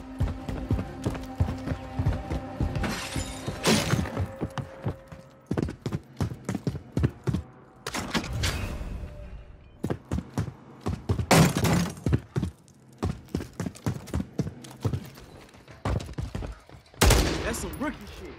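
Rapid bursts of automatic gunfire and single shots crack out in Call of Duty, irregular clusters of sharp loud reports with brief pauses between volleys.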